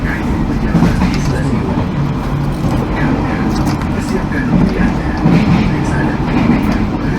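Kamandaka passenger train running from Semarang to Purwokerto, a steady low rumble and rattle of the carriage heard from inside, with people talking over it throughout.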